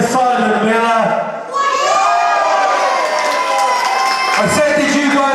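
A wrestling event crowd with many children cheers and shouts loudly for wrestler Simon Miller, a sustained roar of high voices and whoops that swells again near the end.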